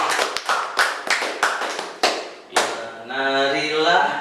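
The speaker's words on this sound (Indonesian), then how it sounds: "Tepuk tangan." Several sharp hand claps in a loose rhythm, close and loud, then a sustained tonal ring takes over in the last second.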